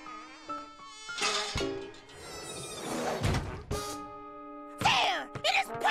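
A cartoon fly gives a wavering, whiny buzz that rises and dips, mixed with animated character voices and quick comic sound effects.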